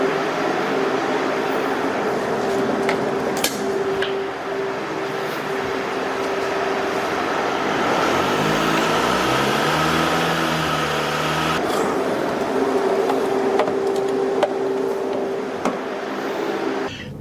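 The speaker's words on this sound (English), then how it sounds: "Now, I'm test driving it right now and it still has got no power." Engine drone and road rumble from inside a car on a test drive, the vehicle still lacking power; a steady loud hum runs throughout, with a brief rising and falling engine tone in the middle.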